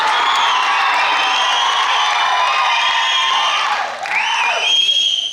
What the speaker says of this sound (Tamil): இந்த கைத்தட்டலும் விசிலும் அதை தாண்டின ஒரு விஷயம்னு நினைக்கிறேன்